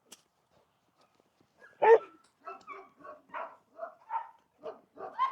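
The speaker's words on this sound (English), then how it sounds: "They're going to bark a little bit." Several working dogs barking outdoors during exercise, a loud yelp followed by a steady run of sharp barks repeating about every half second, fairly close with quiet gaps between.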